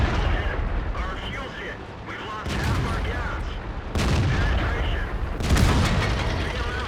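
Tank gun shots in the video game World of Tanks on the Karelia map, including a Type 62: several sharp, heavy cannon booms land at intervals, each with a rumbling tail, over steady battle ambience and a talking voice.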